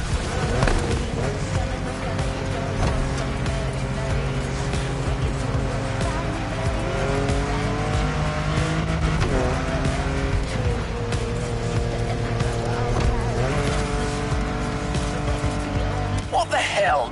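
A car racing in The Crew Motorfest video game, driven hard enough to nearly roll onto its roof: loud, steady engine roar with tires squealing and skidding through the turns, continuous from start to finish.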